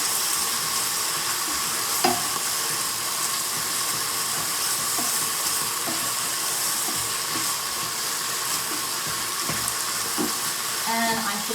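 Pad thai with garlic chives being stir-fried in a pan, a continuous hiss and sizzle with scattered clinks and scrapes of a utensil, close by.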